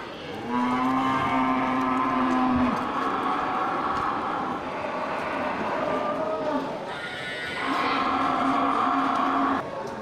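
Cattle, including large Bali cattle at a livestock market in Indonesia, moo in long, loud, drawn-out calls, one after another, over a noisy crowded background.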